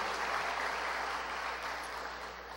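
Audience applause for the anniversary of a school, the Colegio Nacional Olmedo, at a cultural event; steady, dense clapping from a crowd fills the whole stretch, fading slightly toward the end.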